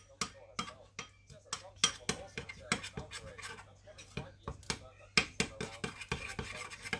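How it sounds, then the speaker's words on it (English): A utensil stirring spices and garlic powder into a keto ham and cheese sandwich mixture in a bowl, with close, uneven scraping and clinking strokes at a steady hand pace, some sharper taps. "And then you're just gonna stir everything."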